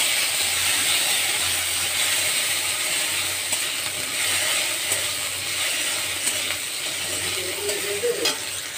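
Potatoes fry in oil in a pan for a banana-flower dish, giving a steady close sizzle with occasional scraping stirs and a few small clicks, no talk.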